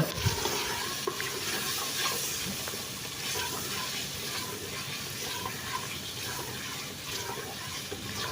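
Mutton browns in a pot during bhunai, giving a steady low sizzle and stirring scrape that runs continuously at moderate distance, with no talking.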